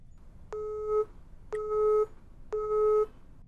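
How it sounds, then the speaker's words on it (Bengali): A telephone busy signal sounds as three evenly spaced, clean electronic tones, each about half a second long. They are clear and alone over faint background hiss. "কি ব্যাপার, ফোন এত বিজি থাকে কেন? কল দিয়ে পাচ্ছি না।"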